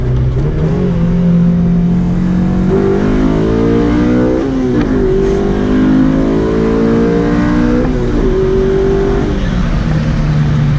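A tuned Honda Civic Si pulls hard in second gear at wide-open throttle, its loud, close engine note climbing steadily in pitch with brief dips between sweeps.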